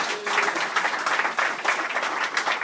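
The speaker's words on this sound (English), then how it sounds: "Give a hand clap to the Lord." A church congregation claps hands to the Lord during a ministry service, dense sustained clapping with uneven surges, fairly close and loud, with no talking over it.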